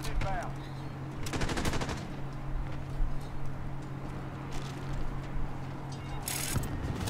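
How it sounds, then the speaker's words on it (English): Shotgun gunfire in the video game Modern Warfare: a few sharp blasts and short rapid bursts over a steady humming game background, with a couple of quieter pops in between. "Nice shotgun, dude."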